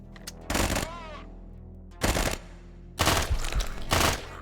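Quasimorph video game gunfire, three loud bursts of rapid automatic shots separated by short quiet gaps, the last burst longer and rattling.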